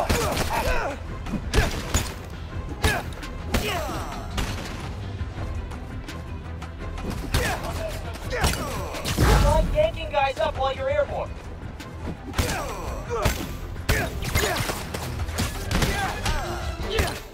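Rapid bursts of gunfire-like shots and thuds from Marvel's Spider-Man: Miles Morales, clustered in flurries, with a brief electronic warbling tone in the middle.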